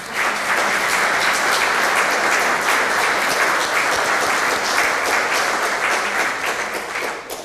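A large audience claps loudly and continuously for a guest speaker, the head of a religious community, at an address to army officials. The applause is dense, even and sustained throughout.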